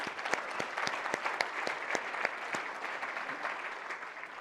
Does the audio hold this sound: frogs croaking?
no